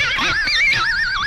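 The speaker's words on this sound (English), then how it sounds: "When I'm using a pitch shifter sound like this, I don't want to overdo it because it'll sound just kind of like" A guitar through a heavily overdone pitch shifter swept by a Hotone expression pedal, its bright note warbling up and down in quick, wobbly, whinny-like bends for a moment, loud and close.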